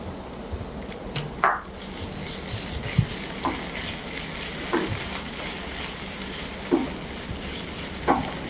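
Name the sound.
ginger garlic paste frying and being stirred in a pan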